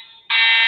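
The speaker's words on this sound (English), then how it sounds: "Is the fire alarm going off?" A fire alarm blares loud and close, a steady high-pitched electronic tone that jumps sharply in intensity partway through and holds.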